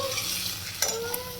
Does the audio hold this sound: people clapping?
no